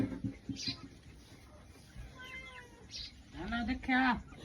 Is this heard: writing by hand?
no